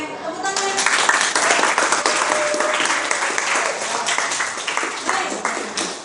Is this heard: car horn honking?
no